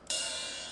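One ride cymbal stroke, a bright sustained wash of shimmer that stays fairly steady through its short length.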